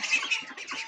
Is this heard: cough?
no